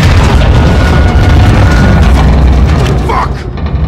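An RPG rocket explosion in the video game Call of Duty Modern Warfare 2: a loud, sustained booming blast filling the whole clip, with combat noise and shouted voices mixed in.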